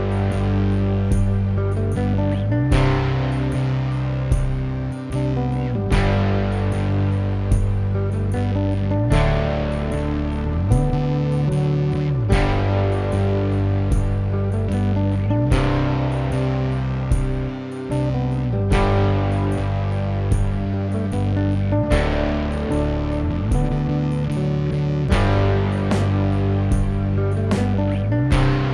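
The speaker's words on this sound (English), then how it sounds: "The first high gain sound you hear is these really explosive sounding chords." High-gain distorted chords played on a Squier Jazz bass through a wet/dry rig ring out in heavy, sustained stabs that shift chord every few seconds. The sound is loud and dense throughout, with no talking.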